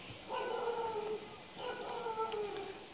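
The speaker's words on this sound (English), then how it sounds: "Lots of dogs here, isn't there?" Dogs at an elephant sanctuary give two drawn-out, wavering howls from a little distance, with faint yips at the end and no one talking over them.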